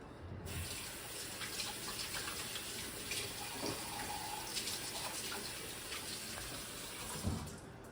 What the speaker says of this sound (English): let me just wash up my hands